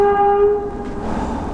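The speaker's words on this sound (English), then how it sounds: "Bloody train." A passing train near a natural fishing pond, its horn sounding as steady sustained tones that fade into a broad rumbling rush of rail noise, fairly loud and with no talk over it.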